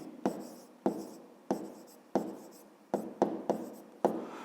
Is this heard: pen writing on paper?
yes